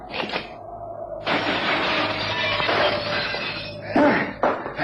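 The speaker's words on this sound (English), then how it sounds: "I'm going to simply jump through the glass." Window glass shatters as someone jumps through it, a loud, sustained crash of breaking shards followed by scattered tinkling and thuds nearby.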